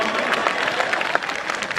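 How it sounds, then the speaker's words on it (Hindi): Audience clapping at a Hindi comedy poetry event (hasya kavi sammelan), a dense, steady burst of applause from a crowd that carries on evenly for about two seconds. "एक बार ताली बजा दीजिए तो मैं शुरू हो जाऊं"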